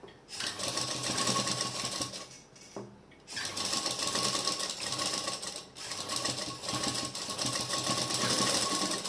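A sewing machine running stitches along baby dress fabric, a fast steady mechanical whir in long runs broken by a couple of brief stops, close and loud.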